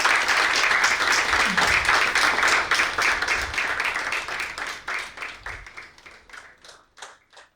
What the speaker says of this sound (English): let's have a huge round of applause for LC Patnaik sir.